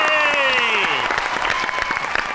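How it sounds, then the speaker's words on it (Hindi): Audience applause swells in a studio talk show, a dense wash of clapping under a voice that trails off at the start. "तालियां बजाओ।"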